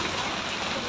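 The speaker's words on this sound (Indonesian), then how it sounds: "hujan kembali mengguyur Kota Bogor" Heavy rain pours steadily over the city of Bogor, a dense, even hiss of drops hitting surfaces with no pauses, close and loud with no voices.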